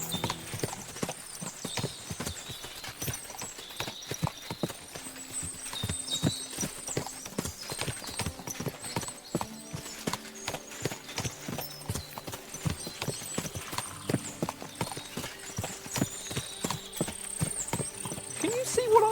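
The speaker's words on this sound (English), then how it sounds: "What a lot of horses!" Many horses' hooves clip-clop steadily in overlapping rhythms in Kingdom Come: Deliverance II, with occasional whinnies and soft voices in the background.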